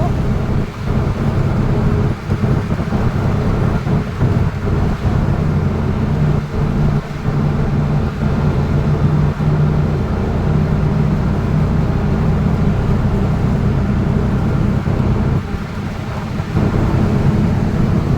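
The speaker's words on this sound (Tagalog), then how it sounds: "Oh, bagyo." A rainy thunderstorm sets up a continuous low rumble and wash of rain, with soft knocks and brief dips scattered throughout, and faint voices talking quietly underneath.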